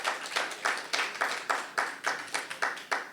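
Steady, even rhythmic clapping at a cultural conference, about eleven distinct claps in three seconds, close and fairly light, with no voices over it.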